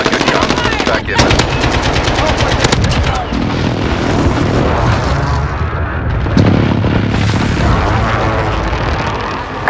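Rapid bursts of automatic gunfire from an RPK-16 and Galil ACE in Modern Warfare 2019, loud and dense, with rattling volleys, booming reports and a brief lull, while in-game voices speak.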